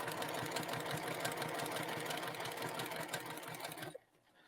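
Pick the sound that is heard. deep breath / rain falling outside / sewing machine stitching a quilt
sewing machine stitching a quilt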